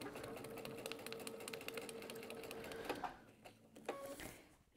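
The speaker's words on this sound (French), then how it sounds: "Et je vais coudre tout simplement sur cette ligne-là." A sewing machine stitches fabric along a straight line while making a book-style cover, a fast, even, quiet rattle of needle strokes for about three seconds before it stops and a few soft handling sounds follow.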